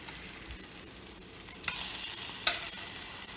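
Eggs fry in a cast iron skillet with a soft, continuous sizzle and crackle, rising with a brief sharp burst of popping partway through; no talking.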